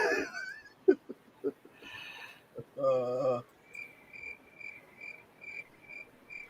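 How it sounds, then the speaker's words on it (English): Cicadas chirp in the background in short, evenly spaced pulses, faint but steady, after a few brief scattered noises at the start. "You just hear cicadas in the background."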